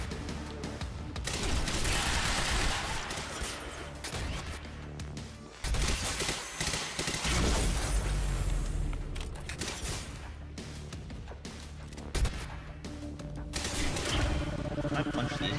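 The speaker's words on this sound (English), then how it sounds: "I didn't mean to pick up the assault rifle." Assault rifle fire in the game Quantum Break, dense overlapping bursts and volleys running almost continuously at close range, with brief lulls, loud and busy throughout.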